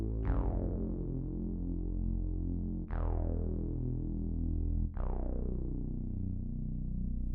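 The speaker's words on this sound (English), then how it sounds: "Then we get into more synthy bass. A bit retro-y." Three deep, buzzy synth bass notes from a Juno synthesizer, each struck sharply then decaying slowly, with a vintage analog character and no voices.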